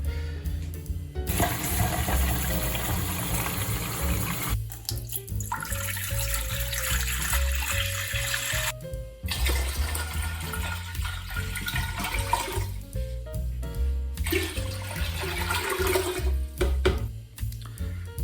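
Water pours into a pressure cooker, about three litres for a home beer brew, a loud close gushing flow in several long bursts separated by short pauses.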